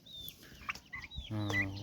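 Chickens and roosters on a small farm, several short close clucks and calls in quick succession, fairly faint, ending in a louder drawn-out cry.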